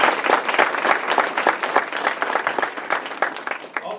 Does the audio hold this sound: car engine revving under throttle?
no